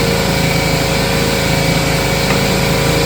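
An air compressor runs continuously in a workshop, giving a steady, loud mechanical drone with a low engine-like hum that holds unbroken for the whole stretch, with no voices.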